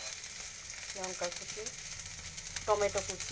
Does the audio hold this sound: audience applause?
no